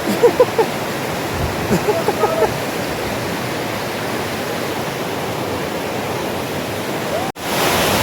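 A steady, loud rush of water tumbles over a small dam weir near Dahanu, a constant broad roar that cuts out abruptly near the end.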